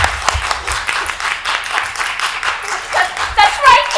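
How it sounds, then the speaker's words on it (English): An audience claps along in a theatre during a Peter Pan performance, sustained applause running under the whole stretch with voices mixed in and a brief high call near the end. "Clap your hands if you believe."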